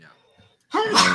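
A single loud, close sneeze bursts out suddenly after a brief quiet moment and a short spoken word, during a casual online chat among gamers.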